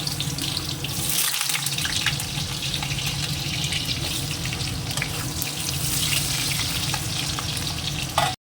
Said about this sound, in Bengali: কড়াইতেও তেল দিয়ে দিচ্ছি গরম হয়ে গেছে এবারে এই আলু পটলটা একটু লাল করে আগে ভেজে নেবো